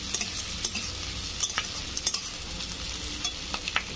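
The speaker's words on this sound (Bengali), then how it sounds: "এইভাবে নেড়ে চেড়ে হালকা করে একটু আমি ভেজে নেবো" Egg chilli stirred and lightly fried in a pan: a steady close sizzle with scattered scraping clicks from the spatula, no voices.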